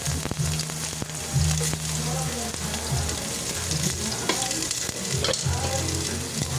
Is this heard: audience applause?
no